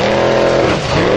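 Formula offroad race car at Stapafell in Iceland, engine revving hard and loud at close range, a brief dip in pitch before climbing again, no talk.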